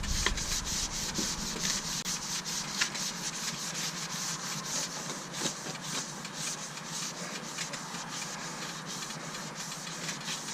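A brush scrubs brake dust off the front wheel of a Dodge Hellcat, giving a steady, close, gritty rubbing that runs the whole time with small scraping accents and no talk.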